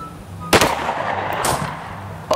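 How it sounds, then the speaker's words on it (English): A hollow point .223 rifle round is fired outdoors. Two sharp, loud reports land about a second apart, with a third beginning at the very end, and each sharp crack trails off into a ringing decay. "Let's shoot a hollow point 223."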